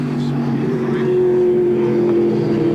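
Race cars at the 1993 Sandown 500 accelerate hard up the back straight, a loud, steady engine roar that fills the whole moment, with commentary layered underneath.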